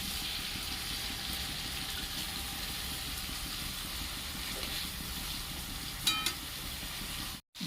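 Turmeric-coated prawns sizzle steadily in hot oil, a continuous close frying hiss with a brief crackle flare near the end before the sound cuts off.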